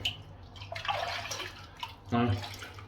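Running tap water splashes over a shaving brush in a sink, a close, hissing stream that comes and goes as the brush is rinsed, with a louder gush near the end.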